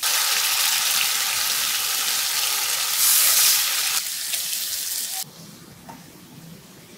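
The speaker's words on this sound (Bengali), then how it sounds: "মশলা কষানো হয়ে গেছে, এখন মাছগুলো আমি দিয়ে দেব।" Rohu fish pieces added to spice masala frying in a pan, a loud broad sizzling hiss that swells briefly, then drops to a quieter steady crackle toward the end.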